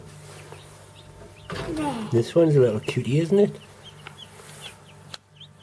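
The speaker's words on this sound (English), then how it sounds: "Look at the little chicken." Small chickens cluck and chirp close by on a garden allotment, briefly mixed with a person talking softly over them, with quiet outdoor background.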